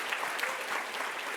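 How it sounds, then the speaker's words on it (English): An audience at a summit keynote panel applauding, a dense steady patter of many hands clapping throughout, moderately loud and without pause. "Can I get another round of applause for my sister friend over there?"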